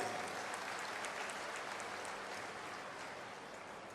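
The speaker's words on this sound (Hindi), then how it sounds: "जरा ताली बजा के स्वागत करो" Steady, dense applause from a crowd welcoming ministers at a public event in Panna, a continuous wash of clapping at moderate loudness that fades slightly over four seconds, with no talk over it.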